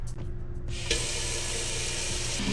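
Tap water gushes steadily into a cooking pot being filled for boiling eggs, a close, continuous rushing and splashing after a brief start, with no talking.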